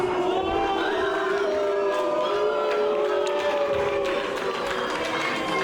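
Wrestling crowd at a PWÖ event turning against Flash Morgan Webster after his headbutt on Martin Payne: a dense, sustained roar of many voices with shouting and jeers, steady and loud throughout.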